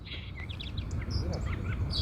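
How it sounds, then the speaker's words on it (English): A song sparrow lands on a microphone at a backyard bird feeder, bringing close, loud rustling and bumping, while quick high chirps and tweets from nearby birds scatter across the whole two seconds. "Here's a close-up of our song sparrow. As it lands on the mic."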